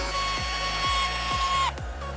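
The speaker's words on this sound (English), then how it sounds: "you just drill holes and hope they work" A power drill bores holes in a Mazdaspeed 3, a loud, steady whine close by with a slightly uneven rhythmic grind that cuts off abruptly near the end.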